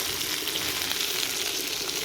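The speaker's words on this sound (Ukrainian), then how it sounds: "Я додаю водички і хай притушується." Liver and buckwheat sizzle and fry in a pan, giving a steady, close, dense crackle of hot fat that runs evenly through the whole stretch with no talk over it.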